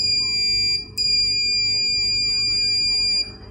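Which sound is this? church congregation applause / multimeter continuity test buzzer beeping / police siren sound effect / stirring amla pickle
multimeter continuity test buzzer beeping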